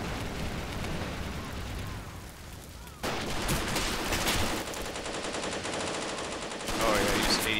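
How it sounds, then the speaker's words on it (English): Sustained machine-gun fire in a World War II video game, a dense continuous rattle with rumbling explosions and battle noise throughout, growing louder near the end. "Yeah, but I got a machine gun covering that approach,"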